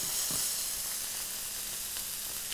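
Masala pork chops fry in a hot pan, giving a steady close sizzle and hiss with a few brief crackles and pops.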